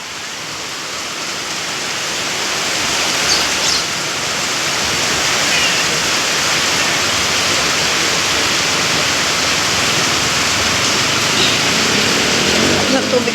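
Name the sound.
water flowing in a stream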